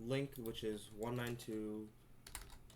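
Keyboard keys are tapped to enter an IP address while setting up a robotics control hub, the light clicks sitting mostly under a person speaking close up, with a few taps clearer at the end.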